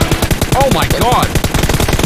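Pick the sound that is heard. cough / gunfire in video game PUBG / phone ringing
gunfire in video game PUBG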